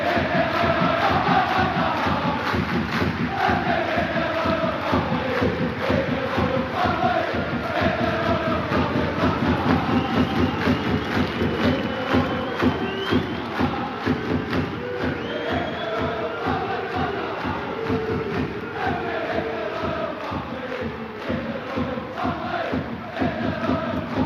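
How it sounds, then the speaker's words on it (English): A large crowd applauds the Queen, sustained dense clapping and cheering that continues steadily and fairly loud for the whole stretch, with no voices standing out. "Over a 1 minute applause for the Queen."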